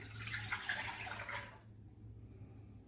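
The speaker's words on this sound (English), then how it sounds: "Pour it in a small saucepan." Whole milk streams from a container into a small saucepan on a stove, a soft trickling splash lasting about a second and a half before stopping, leaving only quiet background hum.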